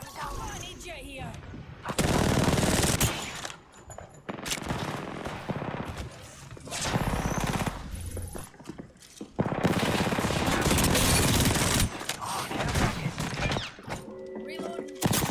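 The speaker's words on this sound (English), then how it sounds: "They're shooting at me" Heavy video-game gunfire comes in long, loud, dense bursts of automatic shots with short lulls between them, mixed with thuds and crashes, while a voice talks over parts of the action.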